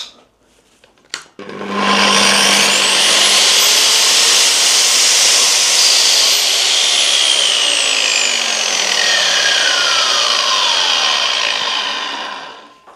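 A Makita GA9050R 230 mm angle grinder, three years in use, switches on from an extension cord switch, spins up to a loud, sustained high-pitched whine, runs steadily for about ten seconds, then winds down as power is cut.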